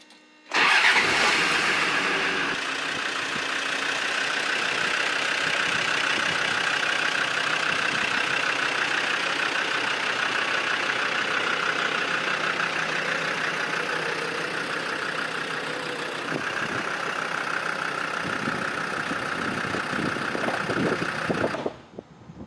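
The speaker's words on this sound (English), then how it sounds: "So hopefully I'm going to turn the key, it's going to start and I can drive it out of the workshop for the first time in years" Vehicle engine in a workshop cranking and catching, then idling steadily for about twenty seconds before cutting off, close and loud with no talk.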